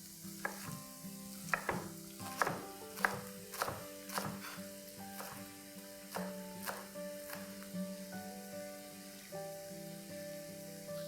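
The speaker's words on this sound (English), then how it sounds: "I'm also going to start cutting the spring onions." A knife chops spring onions on a board in a steady series of sharp knocks about a second apart, while rice fries and sizzles softly on a high flame in the background.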